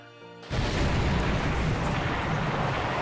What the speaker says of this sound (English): Torpedo hit on this tanker at Johnston Island.